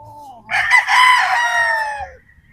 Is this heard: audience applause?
no